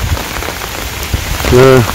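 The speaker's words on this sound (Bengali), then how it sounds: "বৃষ্টি নেমে গেছে" Rain patters steadily on surfaces in a Bangladeshi village during the rainy season, a continuous wash of drops with a brief louder tonal sound near the end.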